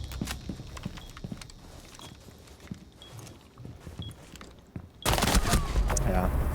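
Video game gunfire in Rainbow Six Siege, a loud burst of shots erupting near the end after quieter scattered in-game noises and distant pops.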